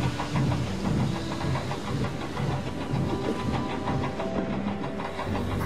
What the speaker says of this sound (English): the Q1 tender engine was already steaming away from him and Rosie, with Edward's goods train